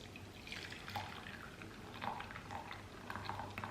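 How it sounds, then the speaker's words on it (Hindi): Milk tea for Pashtun doodh pati chai pours through a strainer into a cup with a steady, soft liquid trickle and faint dripping splashes, close by and continuous, with no talk. "और कप में मैं डालूँगी ऐसे ये टी।"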